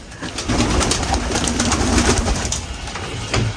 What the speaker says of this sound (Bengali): এগুলো ব্রিডার কবুতরগুলো